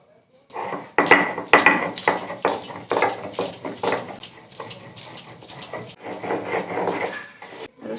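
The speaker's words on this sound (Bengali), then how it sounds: "রসুন বেটে নেব" Garlic is ground into paste for dhoka curry, likely on a stone, giving a steady rhythm of close, scraping, knocking strokes that repeat for several seconds.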